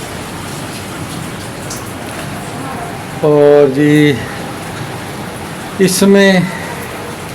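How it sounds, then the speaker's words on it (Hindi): Heavy rain hisses steadily, with a voice speaking briefly twice over the downpour. "बारिश बहुत शदीद तेज़ी से हो रही है।"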